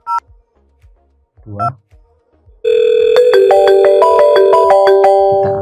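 Touch-tone DTMF beeps from a VoIP phone on a small network, followed by a sustained steady ringback tone with repeated keypad pips over it; brief talk precedes it.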